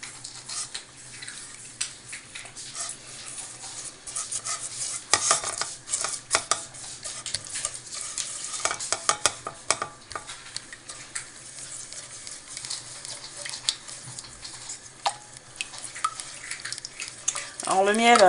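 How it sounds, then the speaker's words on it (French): Pistachio marshmallow mixture being stirred in a pot over gentle heat, with soft scraping and clinking of a utensil against the pan and faint sizzling, steady and close throughout, building slightly toward the end. "Nous mélangeons un peu."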